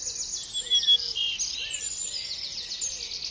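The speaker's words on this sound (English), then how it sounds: "Canary," A canary sings a continuous, high-pitched warbling song of rapid trills and chirps, moderately loud and unbroken throughout.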